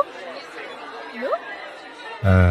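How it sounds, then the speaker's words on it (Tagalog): Noisy party crowd chatter reaching through a phone call, a muffled steady hubbub of many voices with a brief rising tone, ending in a loud burst of close sound. "Bakit ang ingay-ingay dyan? Nasa party ako, Tay."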